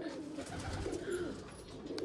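A pet pigeon coos in a low, steady, continuous murmur, fairly faint and alone with no talking over it.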